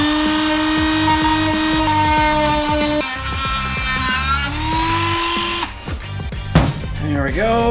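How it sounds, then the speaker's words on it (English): A Dremel rotary tool fitted with a cutoff wheel cuts through a metal nut. The high-pitched motor whine holds steady and then drops in pitch and grinds unevenly as the wheel bites. The sound is loud and close. "I'm just going to go ahead and take my Dremel and put a cutoff wheel on here quick."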